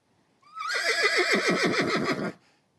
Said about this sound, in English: A horse neighing.